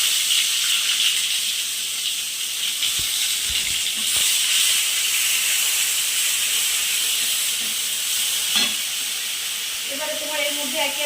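A paste of ground ginger, garlic and onion hits hot oil in a pan and sizzles loudly and steadily up close, with faint kitchen clatter near the end.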